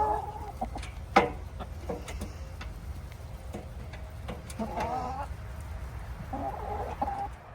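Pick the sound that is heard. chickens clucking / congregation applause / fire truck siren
chickens clucking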